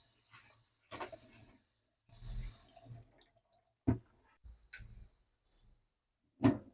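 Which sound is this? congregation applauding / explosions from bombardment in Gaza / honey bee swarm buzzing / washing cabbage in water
washing cabbage in water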